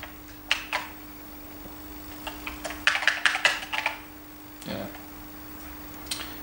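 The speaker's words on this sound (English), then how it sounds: "we'll type it in something a little bit, just to prove that the keyboard's working." Keys on an Acorn Electron home computer keyboard are pressed in short, irregular clusters of clacks. The typing is close and fairly quiet, with a steady electrical hum running underneath.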